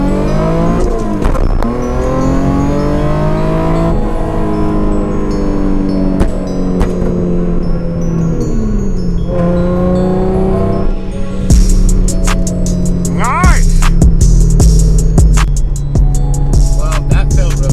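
A Nissan 350Z fitted with a Bellworks differential brace accelerates hard through a test pull, its engine note climbing through rising revs with a gear change, loud and close from start to finish.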